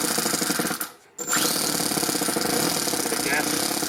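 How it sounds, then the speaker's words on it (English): A small four-stroke engine in an RC car fitted with a Toyan FS-S100G runs with a loud, rapid buzzing chatter, briefly dropping out before firing back up and running on steadily. "Sounds like a 4-stroke as well"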